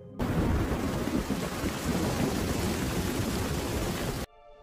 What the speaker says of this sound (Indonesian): hujan tiba-tiba turun di wilayah tersebut